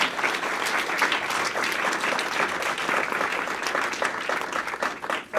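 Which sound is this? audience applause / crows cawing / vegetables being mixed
audience applause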